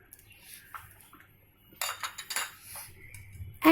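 Fish cubes being mixed with beaten eggs and black pepper in a bowl, with a few light clinks at first and then a busy burst of utensil scraping and clattering against the dish, close and fairly quiet.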